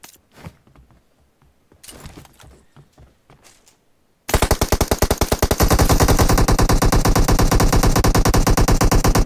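In a video game, a few scattered clicks and taps precede sustained rapid automatic AK rifle fire, loud and steady rhythmic bursts running for about five seconds without voices.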